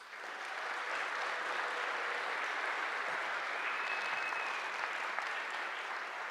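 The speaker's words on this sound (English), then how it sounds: "So can we also give a round of applause to all of our volunteers?" A conference audience at SCaLE 18x applauds the volunteers, a sustained, even round of clapping from a large room, heard at moderate distance and holding steady for several seconds.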